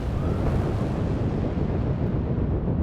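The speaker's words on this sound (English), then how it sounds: "There goes one missile away." A missile launching from a ship in the space game In The Black, a loud continuous rumbling roar that holds steady for a few seconds without a break, no talking.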